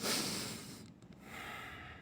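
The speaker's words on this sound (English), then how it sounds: "Like breathing the natural air out here" Deep breathing of fresh outdoor air in a tropical setting: a long audible inhale, then a short pause and a second breath, close to the mic and fairly quiet, with no talking.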